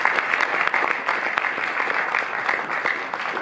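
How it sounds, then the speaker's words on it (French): An audience in a cinema breaks into dense, sustained applause, many hands clapping together at an even level throughout. "Isabelle, vous incarnez Grand Action, vous pouvez l'applaudir"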